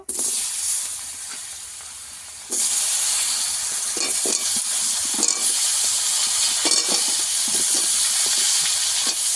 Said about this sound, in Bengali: তেলের মধ্যেই আলুটা ভেজে নেব